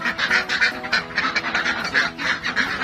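Pekin ducks quacking steadily in a rural pen, a dense run of overlapping nasal quacks from several birds close by, with no voices.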